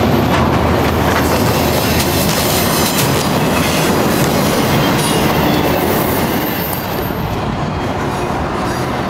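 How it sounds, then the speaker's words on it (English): A train rolls past close by on the tracks, a loud, steady roar of wheels and rattling wagons with rhythmic clatter that holds for the whole span without letting up. "There's an actual train coming."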